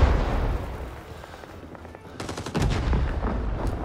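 Gunfire from the Rising Storm 2: Vietnam video game rattles in rapid bursts, louder and denser near the end over a background rumble of battle.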